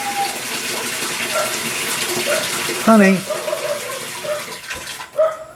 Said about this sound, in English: My wife is starting to flush the toilet right now.